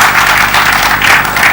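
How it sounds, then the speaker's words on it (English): Applause from a festival crowd on the front lawn as author David Grossman is welcomed on stage, a dense, steady wash of many hands clapping at close range with no gaps or voices. "So a warm round of applause"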